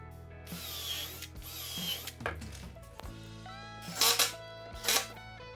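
2.5-inch screws are driven into a workbench brace and legs with a power driver, giving several whirring bursts of rising and falling motor pitch, separated by pauses and small clicks of handling.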